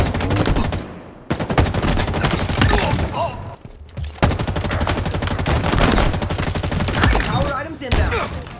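Rapid gunfire bursts loudly and nearly nonstop in the video game Halo Infinite, with dense layered shots and brief gaps between volleys.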